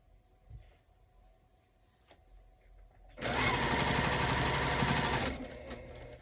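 After a few seconds of quiet handling, a sewing machine with a quarter-inch foot stitches a quilt block in one loud, rapid, steady run of about two seconds, then stops.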